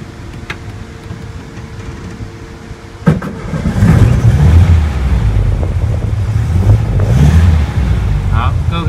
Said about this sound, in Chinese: 那我现在要发动引擎喽